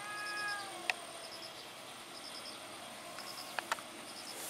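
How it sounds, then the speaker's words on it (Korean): A neighbour's cat outdoors among trees gives a faint, distant meow near the start, followed by a few brief soft sounds in a quiet, hushed setting. "저 고양이, 앞집 고양이."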